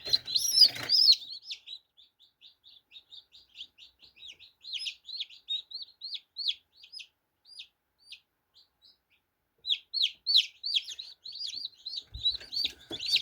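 High, thin peeping from many newly hatched chicks, rapid and continuous with a short lull in the middle, fairly close and with no talking.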